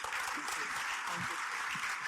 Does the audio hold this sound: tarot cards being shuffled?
no